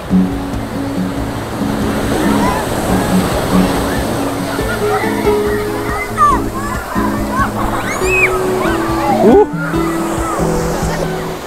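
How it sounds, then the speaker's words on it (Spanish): Ocean waves surge and break on Playa de los Enamorados in Quintero, Chile, a loud continuous roar and wash of surf, with children's and other voices talking nearby throughout. "de pronto se hacen unas olas súper grandes como esa que viene ahí"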